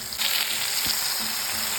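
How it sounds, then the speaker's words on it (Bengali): Grated tomato is added to a hot frying pan, giving a loud, continuous sizzle of something wet frying, with a brief soft clunk partway through. "এবার আমি গ্রেট করা টমেটোটা দিয়ে দিচ্ছি।"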